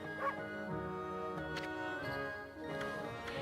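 A short dog yip sound effect from a video game, heard a few times in brief bursts over steady background music with no talking.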